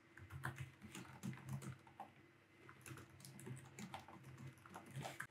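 Computer keyboard typed on at a steady pace, a close, quiet run of rapid clicking keystrokes with short pauses and no speech.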